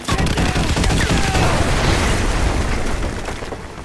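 Danger-close artillery barrage in the video game Call of Duty Modern Warfare 2 Remastered: loud, dense rumbling explosions and crackling blasts that merge into a sustained roar before tailing off.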